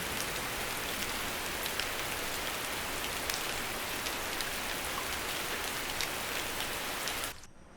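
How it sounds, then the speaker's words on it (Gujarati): Steady, dense rain falling on surfaces, a constant close wash of drops with no pauses, ending in a sudden fade near the finish. "આ તો કઈ ટાઈમ છે વરસાદનો."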